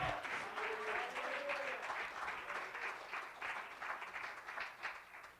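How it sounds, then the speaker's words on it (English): A church congregation claps its hands during a sermon, a fairly quiet, rhythmic patter of many hands with a brief sustained keyboard tone early on, fading slightly toward the end. "begin to clap your hands for his word"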